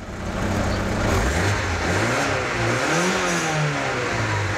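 Chevrolet Niva engine running and revving after being started; a loud, continuous mid-pitched engine drone rising and falling in pitch as the throttle is worked, with no talk.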